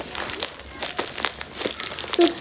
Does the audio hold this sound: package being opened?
yes